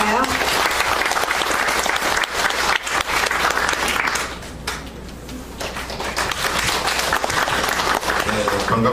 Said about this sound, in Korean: 박수로 맞아주실까요?